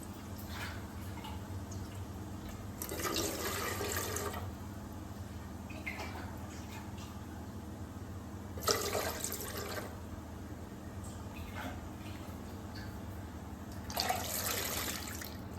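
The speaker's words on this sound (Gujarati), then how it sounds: "સ્ટીમ માટે પાણી જોઈશે એટલે આપણે કુકરમાં પહેલા પાણી એડ કરી લઈશું." Water is poured into a pressure cooker for steaming Gujarati dhokla, in three short splashing bursts separated by quiet pauses over a low background hum.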